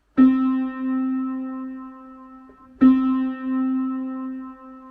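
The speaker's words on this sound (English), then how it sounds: "When I hit it on my piano, it sounds like this." Middle C on a piano under repair is struck twice, a couple of seconds apart. Each strike rings out as a clear, sustained tone that slowly fades.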